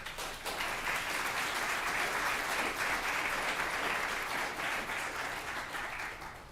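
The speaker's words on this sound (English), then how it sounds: "Round of applause." Sustained applause from an audience, steady and full for several seconds before tapering slightly at the end.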